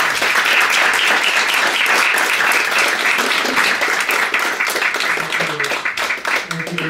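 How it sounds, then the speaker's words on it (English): An audience applauds at the close of a fiction reading, dense sustained clapping from a room full of listeners that thins slightly toward the end, with a few voices faintly mixed in. "Can we get one more round of applause?"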